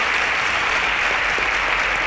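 Loud, dense applause from a studio audience at a televised quiz competition, continuous and even throughout, with no one speaking over it.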